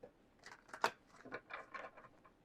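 A short run of soft, crisp tarot card riffles and flicks, close and fairly quiet, with one sharper snap near the start.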